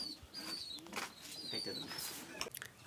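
Pigeons at a home loft cooing and calling close by, with soft chirps and occasional wing flutters, while someone talks over them.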